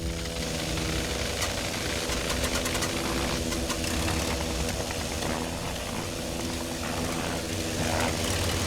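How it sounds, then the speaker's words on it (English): A WWI aircraft engine in the flight sim Wings Over Flanders Fields runs steadily and loudly throughout, a dense rough drone with a knocking, pulsing texture and no voices. "Let us start the engine."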